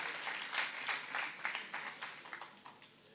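An audience applauds as startup teams come on stage at a web festival event, a fairly faint, brief burst of clapping with no talk over it.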